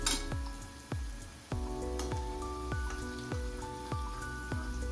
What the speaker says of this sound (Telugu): ఇప్పుడు ఫస్ట్ క్యారెట్ వేసుకుందాం. క్యారెట్ కొంచెం నూనెలో ఉడకాలి.